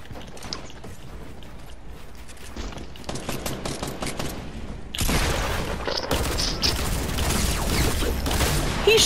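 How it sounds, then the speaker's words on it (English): Rapid gunfire in a video game match as a player shoots his own teammate. Bursts of shots and mechanical clicks start sparse and quieter, then become a dense, sustained volley of automatic fire for the last few seconds. "He's shooting his teammate!"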